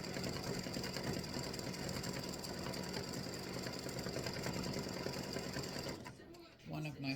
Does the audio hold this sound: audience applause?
no